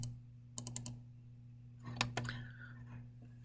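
A computer keyboard clicks in two short bursts of a few keystrokes each, close and quiet over a faint steady electrical hum, with a soft rustle trailing the second burst.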